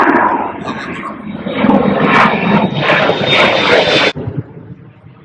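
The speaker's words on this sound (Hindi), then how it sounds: "ये जी हवाई जहाज़ जो है वो बुलंद हो गया रनवे से और ये हमारे बिल्कुल सर के ऊपर से गुजरेगा।" A jet airliner climbs off the runway and passes low overhead at Gravelly Point, its loud roaring engines swelling over a few seconds and then cutting off abruptly, with someone talking over the noise.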